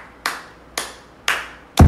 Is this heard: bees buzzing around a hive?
no